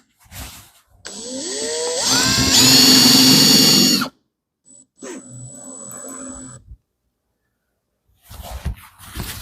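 A power drill drives screws into a sled for an air bag jack, with bursts of whining motor that rises in pitch as it spins up, then shorter runs separated by silence.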